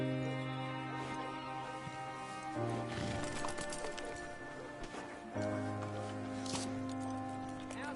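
Soft horse hooves clop along in Red Dead Redemption 2, faint beneath sustained game music with no clear talk.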